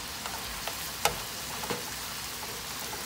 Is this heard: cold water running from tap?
no